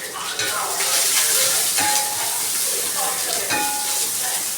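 Onions and curry leaves fry on a flat dosa tawa in a steady, close sizzle and hiss, with faint scraping and stirring clicks every so often over the whole stretch.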